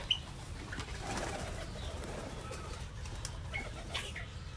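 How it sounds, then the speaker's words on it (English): Soft, low coos from baby pigeons sound intermittently alongside faint bird rustling, fairly quiet and unhurried, with no talking. "Right over here, we do have some baby pigeons,"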